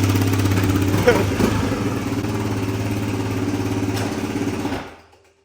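A Suzuki dirt bike engine idles on a cold start, a close, steady mid-pitched chugging with a slight clatter and a small rev early on, then cuts off abruptly near the end.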